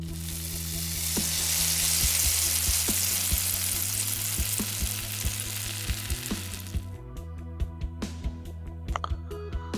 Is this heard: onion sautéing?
yes